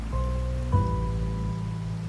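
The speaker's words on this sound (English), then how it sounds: "The rain's back." Rain falls steadily in the Wuthering Waves video game, a soft, continuous hiss of drops on surfaces mixed with low sustained ambient tones.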